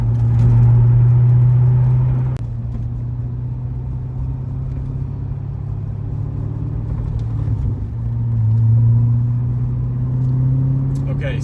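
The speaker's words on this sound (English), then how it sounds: "we're going to do from 45 up through 90 miles an hour as we come up this next ramp, and I will start it in sixth gear again." A C6 Corvette engine pulls in sixth gear up a highway on-ramp, a loud, steady low drone that dips briefly, then swells again as the car accelerates from about 45 mph.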